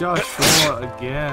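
A single sharp sneeze bursts out mid-clip, loud and close, during a Phasmophobia game session, with people talking before and after it.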